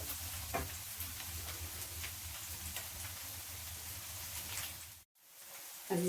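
Onion, garlic and vegetables frying in a pan for a vegetable pasta. A low, even sizzle with faint stirring scrapes runs steadily, then cuts out briefly before resuming.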